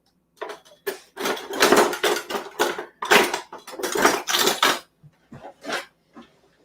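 Kitchen utensils rummaged through while searching for a bench scraper, close clattering metal clinks and rattles in quick bursts, tapering off to a few scattered clunks at the end.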